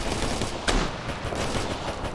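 Continuous dense gunfire in the military shooter Operation Flashpoint: Red River, a steady roar of rifle fire and distant shots during a firefight with one sharper nearby crack standing out, no voices.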